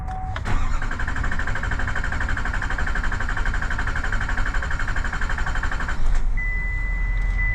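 A vehicle engine cranks as it tries to start, giving a steady whirring drone for about five seconds that then cuts off, followed by a thin electronic tone.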